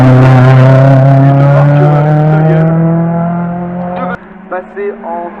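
A historic VHC X Sport racing car at the Bagnols-Sabran hill climb holds a loud, steady engine drone that slowly eases, then cuts off abruptly near the end, leaving a few brief, faint bursts of sound.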